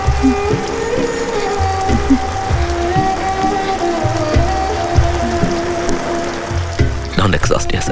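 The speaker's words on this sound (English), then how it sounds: "Yes, it's raining." Rain falls in a steady patter on surfaces, mixed with music and quiet background sound, and a few sharper knocks near the end.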